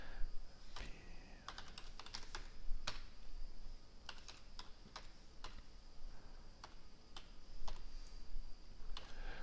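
Computer keyboard keys tapped while entering HTML code, irregular clusters of crisp clicks and a few sharper keystrokes, close and fairly quiet with no talking.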